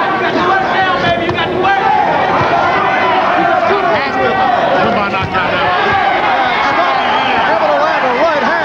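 A boxing crowd roars and cheers steadily during the final round of a light heavyweight bout between Jerry Martin and James Scott, its dense hubbub running under a commentator's continuous voice.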